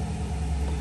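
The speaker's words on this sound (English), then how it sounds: "that exhaust sounds really good for being stock." Stock exhaust of a 2020 Chevrolet Silverado 1500 Custom Trail Boss pickup idling with a deep, steady rumble, close and continuous with no talk.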